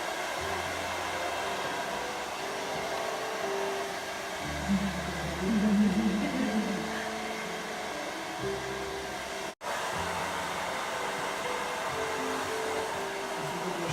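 A hair dryer blows steadily on hair, working from the roots near the scalp, a close continuous airy roar with shifts in pitch and a brief cut near the end.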